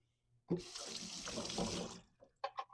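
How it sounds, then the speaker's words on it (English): Tap water runs for about a second and a half, rinsing a part from a GODSPEEDS juicer under the faucet, a close, steady splashing that cuts off and is followed by a few light clatters. "Give that one more rinse."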